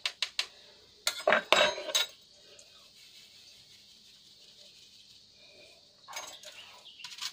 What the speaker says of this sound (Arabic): غادي نخلط هاد المكونات